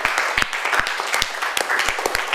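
Applause from a junior high school classroom, a close, uneven patter of individual claps from a small group of students, short and lively.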